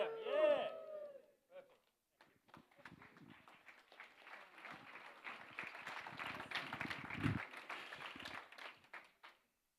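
Conference audience at a rooftop plenary session clapping and cheering, a sustained patter of applause lasting several seconds after a short exclamation from a presenter, moderately near and fading out at the end.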